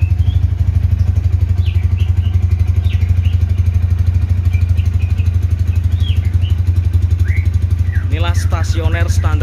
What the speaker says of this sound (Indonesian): Stasioner standar khas dari Tiger Revolution GL200R new.